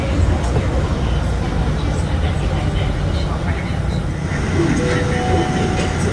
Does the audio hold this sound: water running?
no